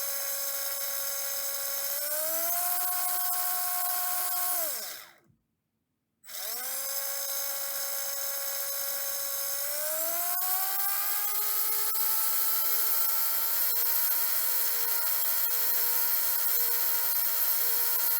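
A Villenium motor runs with a steady high-pitched whine, its pitch dipping as it slows, cutting out briefly to silence, then spinning back up and holding a smooth, even tone, close and alone.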